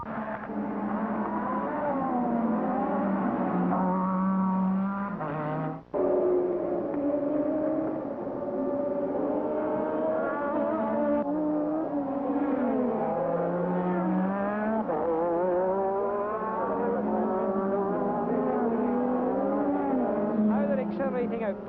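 A Formula 1 car engine at the 1985 Canadian Grand Prix screams loudly and continuously, its pitch sweeping up again and again as it shifts through the gears, with one brief cut in the sound partway through.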